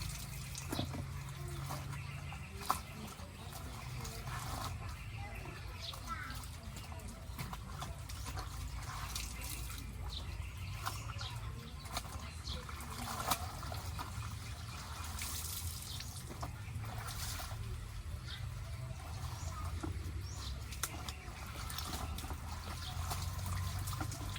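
Water runs steadily from a tap at a rural provincial home, a continuous trickling splash with scattered clinks and knocks, close and fairly quiet, with no talk.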